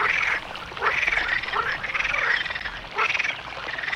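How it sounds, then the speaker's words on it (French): Group of frogs croaking together inside a cave, a run of rippling, repeated calls at moderate volume. "Il s'avéra que la grotte était habitée par un groupe de grenouilles, et ces bruits étranges étaient en fait leur chant."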